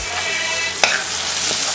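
Tomatoes with a little salt sauté loudly in a pan with a dense, continuous sizzle, close up, and one sharp scrape of a spoon partway through.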